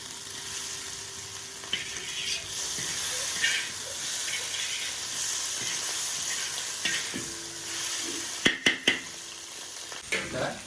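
Burnt chicken frying in a pan for fried rice: a loud, close, continuous sizzle and hiss, with several sharp spoon scrapes and clacks near the end and no voices.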